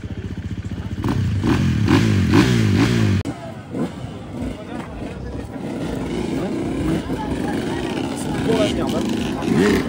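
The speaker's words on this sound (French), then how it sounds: "Tenez les gars, il y a une moto qui sort de chez vous, centre de roue." A motorcycle rides out at an enduro race, its engine note loud and rising, then continuing as a rough revving drone with clatter from the busy race surroundings.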